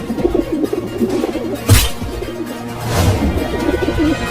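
Soft, low pigeon coos repeat throughout with a gentle warbling rhythm in an animated cartoon, and a brief louder rustle or flutter breaks in midway.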